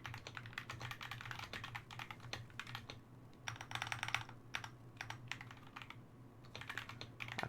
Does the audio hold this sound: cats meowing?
no